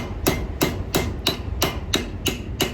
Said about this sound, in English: This is a wee body panel hammer that I made up a while back